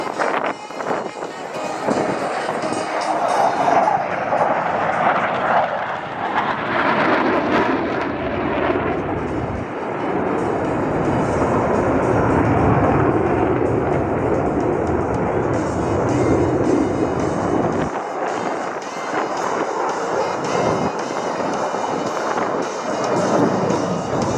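F/A-18 Hornet fighter jets at the New Orleans airshow produce a loud, sustained roar that swells, fades and builds again as the aircraft pass overhead.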